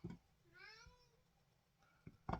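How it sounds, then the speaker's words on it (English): A house cat gives a single drawn-out meow with rising and falling harmonics, fairly close but soft, set between faint handling noises in a quiet room at night. "my cat is telling me it's time for bed"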